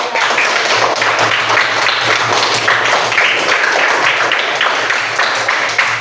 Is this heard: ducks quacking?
no